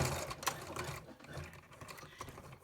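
A sewing machine stitches fabric for a fitted face mask, a quiet steady run of rapid needle clatter with small pauses and changes in speed, close by and with no talk.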